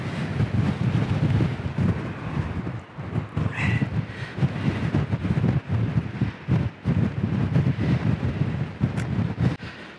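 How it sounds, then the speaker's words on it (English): Strong wind at Ramsgate Harbour, Kent, buffets the microphone in continuous loud gusts, a low roaring rumble that surges and dips throughout with no voices. "It's so windy out here."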